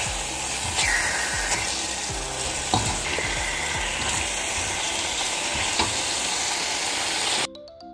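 Beef and a spoonful of garlic fry in hot oil for beef with broccoli, giving a loud continuous sizzle with scattered spatters and utensil scrapes before the sound cuts off abruptly near the end.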